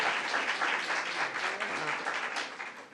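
An audience at a bill-signing event for legislation on human trafficking protections claps in a dense, sustained burst of applause that fades slightly near the end.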